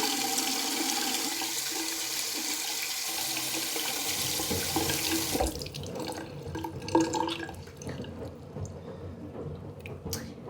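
Tap water gushing into a sink while a squishy toy is soaked and washed, a steady hiss that cuts off midway, followed by faint drips, squishing and handling noises.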